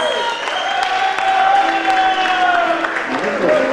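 Festival audience applause and cheering at an outdoor music festival, a dense, sustained wash of clapping with whistles and shouts, loud and close throughout, easing slightly near the end.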